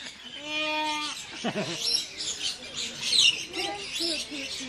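Birds at a bird park give short chirps and calls in an open outdoor setting, mixed with nearby people talking.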